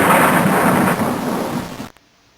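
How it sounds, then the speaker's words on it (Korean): Loud rumbling thunder rolls over steady rain as a storm effect for about two seconds, then cuts off abruptly to near silence. "폭풍우가 몰아쳤어요."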